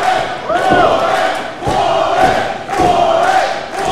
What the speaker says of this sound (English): Crowd behind Warren J.